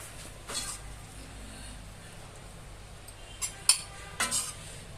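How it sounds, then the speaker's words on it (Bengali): Cooked food in a home kitchen is scooped onto a plate with a spoon, making faint scrapes and a few light metal clinks against cookware over a low background hum. "আচ্ছা, এবার আমি চামচ দিয়ে তুলছি।"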